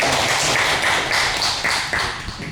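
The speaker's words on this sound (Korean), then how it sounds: "박수 한번 주세요" Applause in a church hall during a young married couples' seminar, a dense patter of clapping from an audience that stays steady and fades slightly toward the end.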